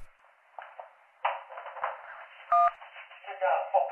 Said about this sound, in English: please press the button once if you're in a hostage situation and can't talk